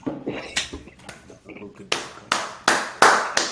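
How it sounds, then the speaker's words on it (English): A small group of people applaud, scattered claps at first building into a run of louder, sharper bursts of clapping near the end. "Let's clap it up."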